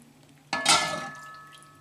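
Water from boiling pork ribs poured over sauerkraut-style cabbage in an ovenproof baking dish, a sudden splashing gush that starts abruptly and tapers into a fading trickle, close and alone.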